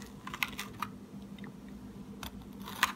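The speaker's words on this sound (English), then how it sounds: "You can even hear it, like the crust giving in." A spoon breaks into the crunchy crust of a Lou Malnati's deep-dish pizza, faint, close crackles and scrapes scattered over a quiet background, with a few sharper crunches near the end.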